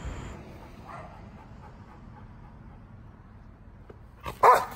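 A personal-protection dog in training gives a brief, sharp burst of barking near the end, after several seconds of low, quiet outdoor rumble.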